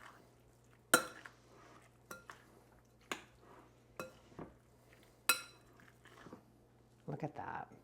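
Mint salad tossed in a bowl, with sharp clinks and knocks of utensils against the dish at irregular intervals in a quiet room, and a brief voice near the end.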